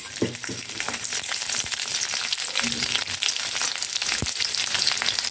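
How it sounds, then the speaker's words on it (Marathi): Garlic frying in a little oil in a kadai, with a steady close sizzle and crackle plus occasional stirring scrapes, no voices. "त्यात आता सर्वात अगोदर आपल्याला लसूण छान तळून घ्यायचं आहे."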